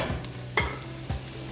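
Curry spices cook in hot oil with a low, steady sizzle, broken by three scraping stir strokes across the pan at an even rhythm, close and moderately loud.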